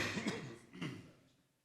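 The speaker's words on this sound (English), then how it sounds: "I'm still coughing up Abbotsford smoke" A speaker at an academic talk, bothered by wildfire smoke, gives two quick close coughs followed by a fading breathy trail.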